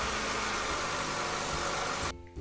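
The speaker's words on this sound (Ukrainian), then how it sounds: "включає мотор" A truck's engine, a cargo truck used on construction sites, runs with a loud, steady rumble for about two seconds, then cuts off abruptly. No voices.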